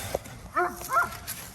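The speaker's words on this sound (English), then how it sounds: "Don't mind the dog over there barking." A dog barks over on a homestead: two short, somewhat distant barks sound about half a second apart against a quiet outdoor background.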